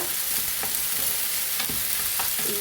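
Vegetables for a simple homemade pasta frying in a pan with a steady sizzle, a utensil stirring and scraping through them in a few distinct strokes, close and alone with no voices.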